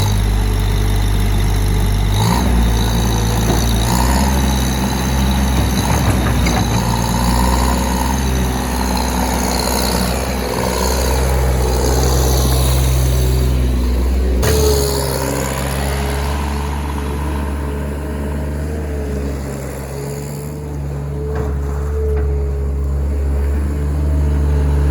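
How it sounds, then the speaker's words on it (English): New Holland LS140 skid steer engine running steadily with a deep, throbbing idle that shifts in pitch as the machine is maneuvered and backed out, loud and close throughout with no talking. "we'll back it out of the spot and take it for a little ride down the road"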